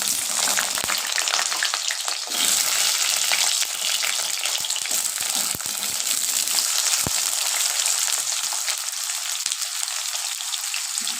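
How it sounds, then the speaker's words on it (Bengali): Sweet pumpkin pieces frying in hot oil in a pan, a loud, continuous hissing sizzle with occasional crackles and stirring scrapes, close and steady throughout. "এইবার আমি মিষ্টি কুমড়োগুলো ফ্রাই করে নেব।"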